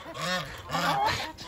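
Black guinea fowl calling near a farmyard, two loud harsh honking bursts in quick succession, close and without talk.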